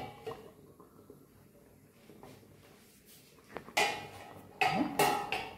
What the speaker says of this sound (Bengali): এবার ঢাকা দিয়ে দেবো। ঢাকা দিয়ে এটা একটু ফুটে যাক।